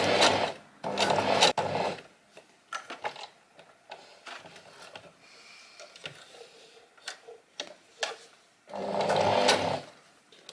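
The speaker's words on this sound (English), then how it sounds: "Now I'm just stitching up around the bottom section of my back piece." Leather pieces for traditional Outlander-style shoes being hand stitched, with bursts of thread pulled hard through leather and softer scratchy handling sounds between them, close and fairly loud.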